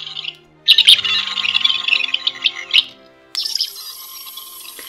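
A Doctor Who sonic screwdriver toy playing the Whittaker screwdriver sound makes loud, warbling, chirpy high electronic trills in uneven bursts, with a short pause before a steadier whine, close and alone.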